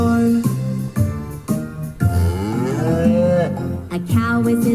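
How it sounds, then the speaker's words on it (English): A cow in a barn moos loudly and close by, several long, drawn-out lowing calls in a row, some sliding in pitch, with short breaks between them. "A cow is in the barn"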